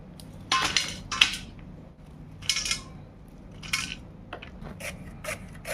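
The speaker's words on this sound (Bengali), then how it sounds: "আমি এরকম পাতলা পাতলা করে সবগুলো কেটে নেব" Knife slicing bitter gourd into thin slices on a board, a series of sharp crisp cuts in uneven bursts, close and fairly loud over a quiet background.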